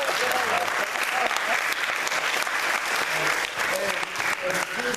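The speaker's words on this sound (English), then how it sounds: "Let's do another round of applause." Crowd applause at a school wrestling awards program, continuous loud clapping from many people with scattered cheers and voices blended underneath.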